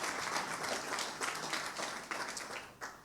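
Audience at a scientific seminar on prostate cancer claps steadily, a dense patter of many hands, moderately near and continuing without pause.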